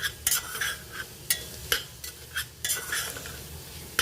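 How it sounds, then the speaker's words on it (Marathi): Peanut and sesame paste stir-fried in a pan, repeated sharp scraping strokes of a spoon against the pan over a low sizzle, close and fairly quiet, no voices. "आता वाटण पण छान परतून घेऊया"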